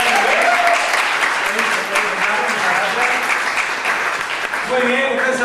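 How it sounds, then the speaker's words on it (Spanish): Audience at an improv movement class applauds a performer, a dense, loud burst of clapping that continues throughout, with talking mixed in. "un aplauso para ella"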